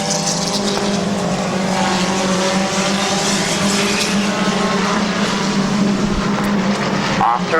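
Race cars on the last lap at Midvale Speedway roar past in a steady, loud engine drone that fills the whole stretch with little change in level.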